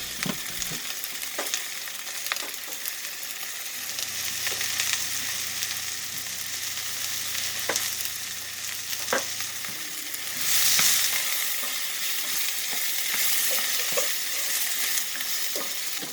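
Diced potatoes fry in ghee in a pan, giving a steady, close sizzle for the whole stretch, broken by occasional sharp clinks and scrapes of a utensil stirring and turning them.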